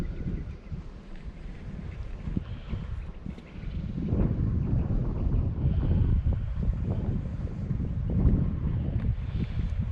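Wind blows around a small floating dock on a lake while bass fishing, a continuous low rumbling buffet of gusts against the microphone with faint water movement and no talking.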